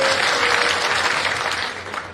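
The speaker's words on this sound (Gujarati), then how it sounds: "તમને ભાઈ જોરદાર તાળીઓ બજાવો" Dense, loud applause from a crowd at an outdoor political rally for a candidate in a Gujarat village, steady clapping throughout with no speech over it.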